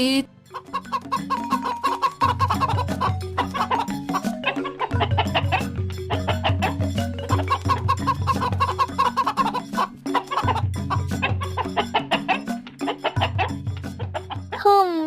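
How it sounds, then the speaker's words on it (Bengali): Several chickens cluck in a farmyard as an old woman feeds them, the fowl sounds mixed under continuous loud music with a steady bass line throughout. "বেশ কয়টা মুরগিকে বুড়ি খেতে দিচ্ছে"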